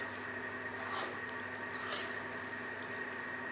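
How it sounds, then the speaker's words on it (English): Thick coconut milk sticky rice batter squishes and squelches wetly as it is stirred, a soft, continuous close sound over a steady background hum, with no one talking. "now you just stir until it starts to thicken"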